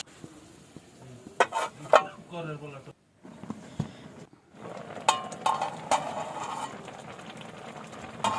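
Mutton pieces being stirred in a pot for a masala curry, with soft scraping and clinks of a spoon against metal and faint sizzling, while someone talks over the cooking.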